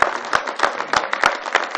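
Audience applause at the opening day of a snow event, a brisk burst of many hands clapping in a dense, even patter that stays loud throughout.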